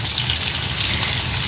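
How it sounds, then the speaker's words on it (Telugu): Prawns frying in a pan over a medium flame, giving a loud, continuous close-up sizzle with fine crackling and no voices. "చూడండి, రొయ్యలు ఫ్రై అయిపోతున్నాయి."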